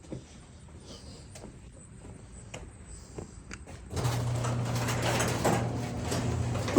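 A garage door runs on its opener with a steady motor hum and mechanical rattle starting partway through, preceded by quieter clicks and shuffling, close by.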